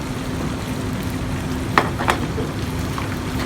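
Garlic lightly browning in a pan for garganelli alla Norma pasta, a continuous close sizzle and crackle with a couple of brief scraping stirs partway through.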